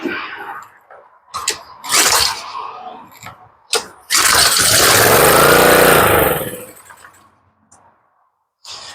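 Pressure washer engine with old gas in the carburetor being pull-started after a dose of starter fluid: several sharp recoil pulls, then the engine catches and roars loudly for about two seconds before dying away.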